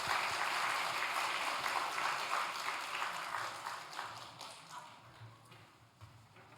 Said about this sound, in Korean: 자, 우리 장로님을 박수로 맞이하겠습니다.